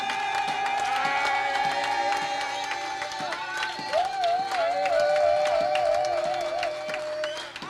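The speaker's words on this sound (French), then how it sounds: "si vous pouvez applaudir mieux, là je pourrais prêcher" A church congregation applauds throughout, a continuous crowd clatter of many hands with cheering, while a sustained sung or wailed voice rises and wavers above it.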